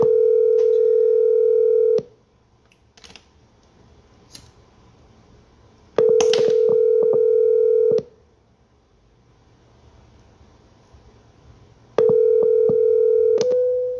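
A telephone line sounds a steady tone in three long two-second stretches separated by quiet gaps, with faint clicks and beeps in between, clean and close with no voices.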